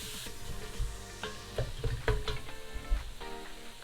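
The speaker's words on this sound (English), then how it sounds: "I'm now going to switch over to my wooden spoon. And we're just going to saute the trinity until they get nice and soft" Chopped trinity of onion, celery and bell pepper sautés in a pot for gumbo, a steady close sizzle broken by irregular scraping and knocking strokes of a wooden spoon.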